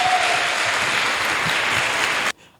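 A church congregation claps during the presentation of baptism certificates, a sustained, even burst of applause that cuts off abruptly just before the end.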